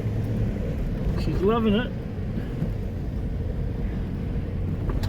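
A four-wheel-drive vehicle driving on a beach on Kangaroo Island, a steady low engine rumble and tyre noise throughout, close and loud, with a voice briefly speaking over it.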